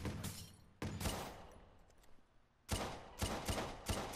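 Gunfire in a PlayStation 4 video game, heard as a couple of loud bursts of shots separated by a quieter gap, with the final stretch packed with several quick rounds.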